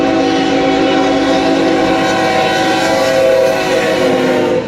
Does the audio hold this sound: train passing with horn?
yes